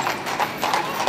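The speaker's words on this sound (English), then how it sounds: "I'm loving all the horses here" Horse hooves clop on a street in Vienna, a quick steady run of close, crisp strikes with a little background murmur.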